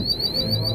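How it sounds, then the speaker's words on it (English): An electronic alarm sounding inside a camera store, a steady high-pitched tone with a slight wavering pitch, held continuously and fairly loud over a low background rumble. "We set off the alarm at the camera store."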